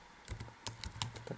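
Keystrokes on a computer keyboard while entering code in MATLAB, a handful of distinct clicks spaced unevenly over a moment, close and fairly quiet with no voice.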